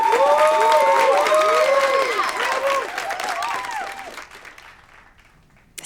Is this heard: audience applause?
yes